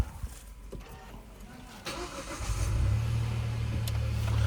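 A Hyundai Bayon's 1.0-litre turbo three-cylinder petrol engine cranks and fires up, settling into a steady low idle hum that stays close and loud after a brief starter whir.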